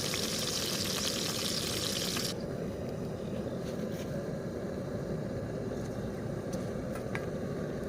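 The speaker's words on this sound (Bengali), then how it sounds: "এই তেলেই আমরা খাবারগুলোকে ভেজে নেবো" Food sizzles in hot oil over an outdoor cooking fire in a forest, during preparation of a butter paneer khichdi meal. A steady, dense frying hiss fills the whole stretch with no talk over it.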